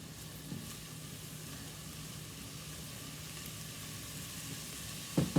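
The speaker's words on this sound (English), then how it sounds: "we're just going to let this simmer for a couple more minutes" Onions, garlic and ginger simmer in a pan with a soft, steady sizzle that runs evenly throughout, with a couple of faint clinks and a louder knock at the end.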